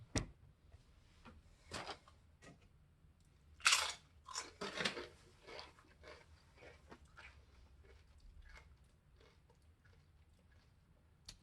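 Close, crisp crunching and chewing of in-house tortilla chips with salsa in a hotel room, several sharp bites followed by softer mastication that fades toward the end.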